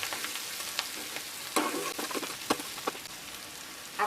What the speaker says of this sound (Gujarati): આપણે આને સતત ચલાવતા રહેવાનું છે। આપણો ચણાનો લોટ શેકાઈ જાય ત્યાં સુધી